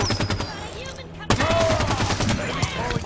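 Gunfire from a weapon in Halo 5 Guardians: rapid repeated shots with a loud impact or blast partway through, over busy game effects and music.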